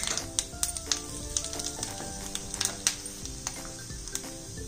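Fennel seeds frying in hot mustard oil in a wok, a steady close sizzle with scattered crackles and light pops throughout, no talking.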